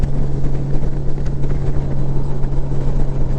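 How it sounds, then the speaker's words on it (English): Honda Gold Wing DCT motorcycle in sport mode as the throttle rolls back, a steady loud engine drone with a strong low hum and rushing wind noise, no talking. "this is me rolling the throttle back in sport mode"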